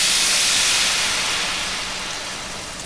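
White wine poured into a hot pan of salty pork fat gives a loud, broad hiss that starts at full strength and slowly fades over a few seconds, close and alone.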